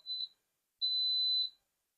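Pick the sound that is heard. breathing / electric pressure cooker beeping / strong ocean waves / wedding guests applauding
electric pressure cooker beeping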